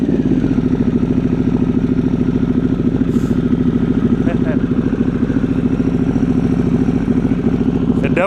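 A Harley-Davidson Pan America ST motorcycle idles after starting, a steady close, loud pulsing engine rumble with a fast even beat that holds throughout, with brief faint clicks over it.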